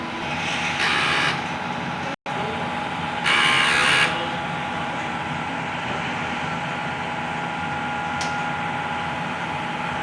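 A DTF printer running a print head clean cycle produces a steady low mechanical hum, broken by a couple of brief, brighter whirring bursts and a momentary dropout.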